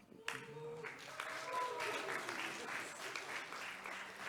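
Brief burst of audience applause at a tech talk on suspense for data fetching, rising quickly to steady clapping from a small crowd and fading after a few seconds.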